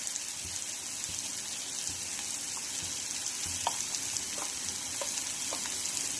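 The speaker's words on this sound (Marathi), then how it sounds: "छान याला असं मिक्स आणि फ्राय करून घ्यायचं आहे" Onion frying with turmeric, salt and garam masala gives a soft, even sizzle in a pan, with occasional spoon scrapes and taps as it is stirred, fairly quiet and close, without talk.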